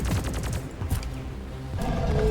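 The Stubby submachine gun in Deep Rock Galactic fires in rapid, continuous automatic bursts, loud and close, with a brief dip in the stream before the fire picks up again.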